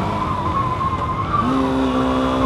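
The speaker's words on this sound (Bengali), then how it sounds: "তাও কিন্তু 2-এ আনছি, আরপিএম বেড়ে গেছে কিন্তু চাকা লক হয়নি" A Honda Hornet 2.0 motorcycle with a slipper clutch changes down a gear, and its engine note climbs in a loud, rising rev close by, with no talking.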